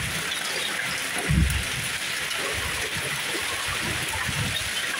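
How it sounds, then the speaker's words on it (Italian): Violent hailstorm in Turin: a steady, dense hiss of hail and rain pelting surfaces, with one brief louder thump near the middle, heard close and continuous with no talk. "grandinata comunque violenta"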